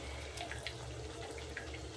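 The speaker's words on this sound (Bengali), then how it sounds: "যখন এরকম দেখবেন সামান্য পরিমাণে জল, বেশি না, সামান্য পরিমাণে জল নিয়ে" A little water poured into a pan of spiced potatoes being cooked for a Bengali potato curry, heard as a faint splashing trickle with a few soft drips, close by and without talk.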